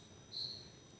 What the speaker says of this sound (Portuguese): tem um grilo aqui perto, que está fazendo barulho aqui